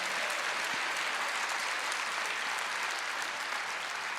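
Church congregation applauding together, a dense, steady wash of clapping from many hands filling the space, loud and sustained with no voices on top.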